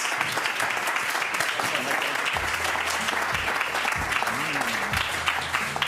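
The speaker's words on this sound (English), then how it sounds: "Give them a round of applause." A crowd at a Saturday night show claps loudly and continuously as players return to the floor, with a faint voice underneath.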